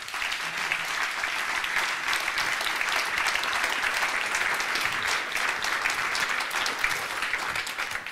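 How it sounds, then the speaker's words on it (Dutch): Sustained applause from a hall audience welcoming the Dutch defence minister to the lectern for a speech, dense even clapping throughout at moderate level, no voices. "Geef haar een groot applaus."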